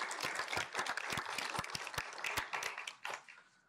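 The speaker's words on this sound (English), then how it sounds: "let's give them a round of applause for their expertise and sharing tonight" Audience applause for panel speakers at an evening community talk event, a moderately loud burst of many hands clapping continuously that thins out toward the end, with a faint voice underneath.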